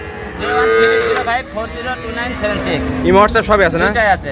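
A Jersey dairy cow on a farm gives long, loud, close moos, one drawn-out call followed by another rising bellow a few seconds later.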